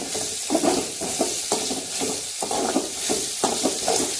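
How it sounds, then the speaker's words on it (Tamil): Tamarind, dried chillies, peanuts and bitter gourd sauté in a pan for bitter gourd thokku, a steady close sizzle broken by regular scraping stirs about once a second. "இந்த புளி, மிளகாய் வத்தல், வேர்க்கடலை, பாவக்காய் எல்லாம் சேர்ந்து நல்லா வதங்கிட்டு இருக்கு பாருங்க"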